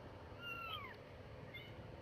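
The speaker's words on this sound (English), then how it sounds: "What's that, a cat?" A cat gives a faint meow, a rising and falling cry, followed a moment later by a shorter, softer second meow over a steady low background hum.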